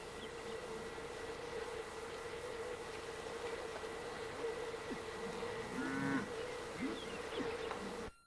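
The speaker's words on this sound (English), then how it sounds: "Some of the cattle in the morning right outside the front door." Cattle moo in the open on a ranch in the morning, several low drawn-out calls around the middle and end over a steady outdoor hum.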